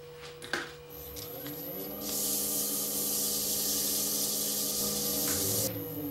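Wooden hollow form turning on a lathe while pressed with 600 grit sandpaper, a continuous hissing rasp over the steady hum of the motor that grows louder and fuller partway through, close and alone.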